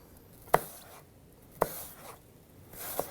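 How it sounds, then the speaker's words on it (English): Seeds toasting in a pan for an apple broccoli salad, giving three sharp, isolated pops spaced about a second apart over a quiet background. "We've got some popping from our seeds, and that's what you want."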